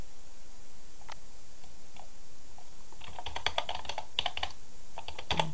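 Rapid typing on a computer keyboard: a quick burst of light key clicks, close up, over a steady faint background hiss, with no talking.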